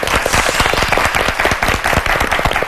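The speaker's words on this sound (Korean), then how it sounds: "대학생 방청심사단 박수로 환영하겠습니다" A university student audience on a Korean high school debate show applauds to welcome the judges, dense loud clapping filling the whole stretch.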